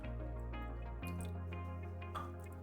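Liquid pours steadily into a pot while homemade cheese curds are being made, a continuous close trickle and splash with a slight change in tone about a second in.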